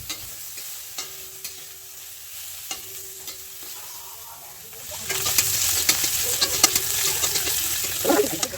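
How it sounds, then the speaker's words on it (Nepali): Chopped, already cooked pork fried in a pan, beginning with sparse clinks and light taps, then a loud, dense sizzle that takes over midway and stays steady, with occasional utensil scrapes and no voices. "यसलाई म मसिनो मसिनो काटेर पहिला चाहिँ मजाले फ्राई गर्दैछु"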